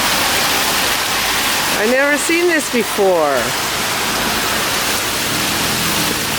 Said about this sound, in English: Look at that hailstorm.